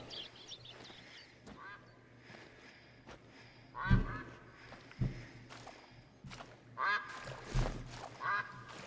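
Ducks quack nearby outdoors in several separate bursts, with rustling footsteps between the calls.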